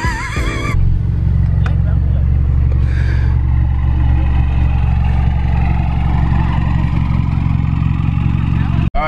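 A Nissan car fitted with a stock boost controller runs with a loud, steady low rumble at close range, the engine drone continuing evenly under brief talk.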